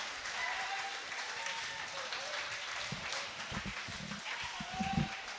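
A crowd cheers and claps at a boys' high school swim meet, a distant, echoing wash of applause and shouts in an indoor pool, with some louder thumps and voices near the end.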